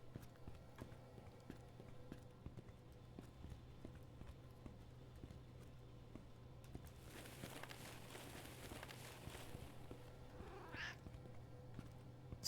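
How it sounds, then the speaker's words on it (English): A cat meows somewhere in the upper floors of a building in the Obenseuer video game. One faint, distant meow comes late, over steady ticking and soft clopping steps. "I keep hearing a cat and I can't tell where it is"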